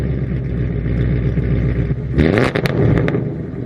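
A Ford Mustang engine runs with a loud, steady low rumble, then revs up sharply partway through, close by and with no voices.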